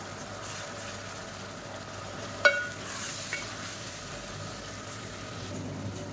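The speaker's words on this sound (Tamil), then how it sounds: "இப்போ நம்ம அரைச்சி வச்சுருக்கிற இஞ்சி பூண்டு பேஸ்ட்டை சேர்த்துக்கலாம். இது நல்லா வதங்கட்டும்" Ginger garlic paste sautés in a pan for chicken white biryani, giving a low, steady sizzle with a single sharp clink of a utensil partway through, close and faint.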